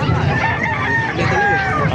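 A rooster crows loudly and close at a market in Calumpit, Philippines, a long drawn-out call over background clucking and faint voices.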